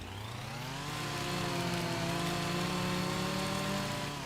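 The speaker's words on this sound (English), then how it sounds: "I see you can't run with the chainsaw." A chainsaw engine in Farming Simulator 25 runs steadily for the whole stretch, a loud, continuous buzzing drone that swells slightly and holds an even pitch, with no voices over it.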